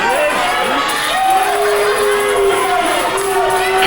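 A live PWF pro wrestling crowd reacts in unison against a wrestler's boast, a steady, loud arena roar of voices that holds throughout and swells slightly toward the end.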